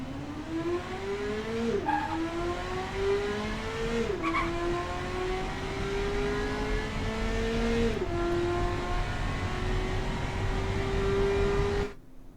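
A car in the driving game Automation, a 1982 Marina Flare MkIV with more weight on the front, launches off the line with a steady engine drone climbing through three gear shifts over about twelve seconds, then cuts off abruptly.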